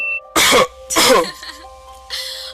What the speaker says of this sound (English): He was so mad when you coughed.